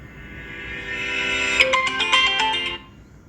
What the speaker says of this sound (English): let's see some ringtones